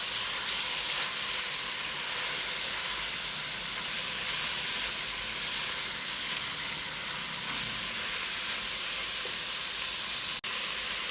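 Cubed green, yellow and red bell peppers sizzle and hiss steadily in a hot pan while being stir-fried for Chinese Cantonese chicken, a continuous bright frying noise with faint stirring.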